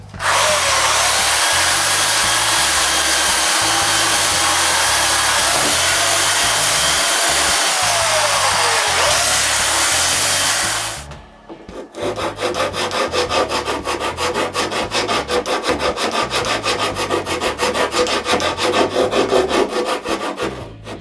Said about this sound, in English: I sand and make a round over along the top edge of the basket.